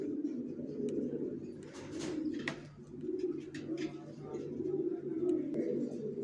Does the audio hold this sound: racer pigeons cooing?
yes